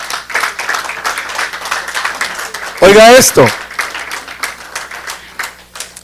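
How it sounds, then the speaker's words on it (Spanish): A church congregation breaks into a short, loud burst of applause and cheering at a Spanish-language sermon on God's love, rising out of steady preaching and fading back under the preacher's voice within about a second. "dile un aplauso al Señor"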